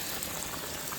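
Food sizzles in a hot pan, giving a dense, even crackle and hiss that runs steadily through the short moment with no one talking.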